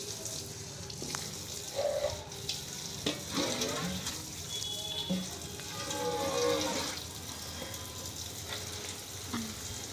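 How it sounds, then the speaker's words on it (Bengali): Black cumin seeds sizzling in hot oil for tempering a fish curry, a soft continuous frying hiss with scattered clinks and stirring sounds, faint and close, with brief muffled background noise. "ফোড়ন দিলাম কালো জিরে ফোড়ন"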